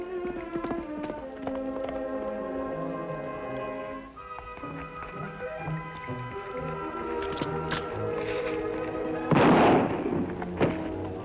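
A single gunshot in a Lone Ranger western episode, a sharp blast cracking out near the end over a steady orchestral music score.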